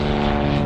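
Small single-engine propeller plane taking off at a training airfield, its engine drone and prop buzz steady and fairly loud throughout, with no talk over it.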